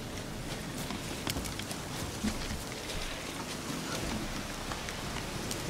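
Steady rain in The Witcher 3, a faint, even patter of drops with soft scattered ticks and a light hoof-like clopping in the background, no voices.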